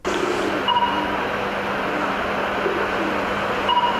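A train at a railway station gives a steady rumbling hum with faint squeaks, a continuous station ambience with no voices.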